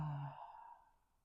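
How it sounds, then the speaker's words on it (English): A single soft human yawn during a relaxing yoga stretch, a voiced drawn-out exhale that fades into quiet breath over about a second. "Inhale, lift that shoulder up, squeeze, inhale a little more, and now yawn"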